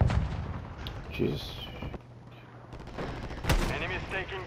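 Gunfire and explosions in a first-person shooter sniping match pound in rapid bursts with booming impacts, and a man exclaims briefly over the din.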